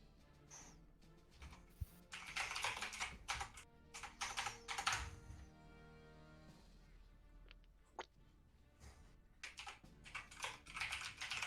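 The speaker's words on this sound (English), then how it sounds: "I hear Steve typing." Steve typing on a computer keyboard during an online tabletop role-playing game session, bursts of rapid clicking keystrokes coming and going in uneven clusters, fairly faint and close, with brief pauses between runs.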